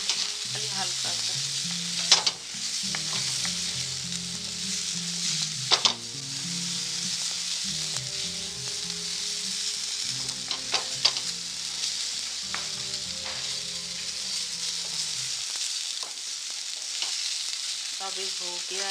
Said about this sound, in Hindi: इसमें एक स्वीट पोटैटो को थोड़ा सा हल्का सा फ्राई करेंगे